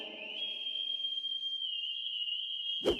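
A steady, high, sustained whistle in a French cartoon, carried as one long unbroken tone for about three seconds before a short thud cuts in.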